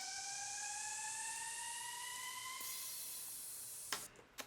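A white noise sweep effect in a future bass song: steady bright hiss with faint tones gliding slowly upward, then cutting off abruptly near the end.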